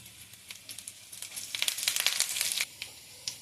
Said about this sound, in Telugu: ఉల్లిపాయ కొద్దిగా ఎర్రగా వేయించుకోవాలి ఉల్లిపాయ వేగిందండి ఇప్పుడు కరివేపాకు వేసుకోవాలి